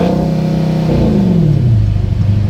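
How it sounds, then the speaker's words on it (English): Engine of a 2018 Dodge Daytona 392 runs loud and close with a deep, rumbling idle, its pitch easing down slightly, heard alone with no talk. "Engine idles at 38 psi."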